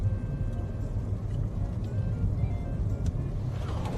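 A car drives through traffic with a steady low engine and road rumble, heard from inside the vehicle at moderate level, continuous and even throughout with only faint clicks on top.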